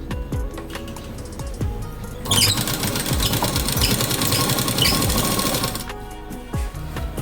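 A sewing machine stitches quarter-inch tucks on the front of a blouse, a loud, close, fast mechanical whir with rhythmic needle knocking that runs continuously and intensifies in the middle stretch.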